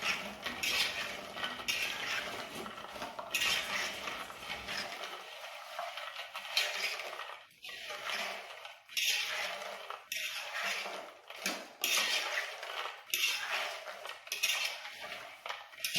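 A fork stirs and clinks against a bowl, coating pecans in egg, butter and vanilla. The scraping and tapping repeats steadily and close by, with no talking.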